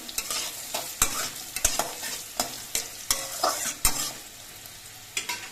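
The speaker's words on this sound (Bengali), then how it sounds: "হলুদের গুঁড়ো দিয়ে নেড়ে তেড়ে মিশিয়ে নিতে হবে" Frying with turmeric powder in a pan sizzles under repeated sharp spatula strikes and scrapes, about a dozen irregular stirring knocks close by.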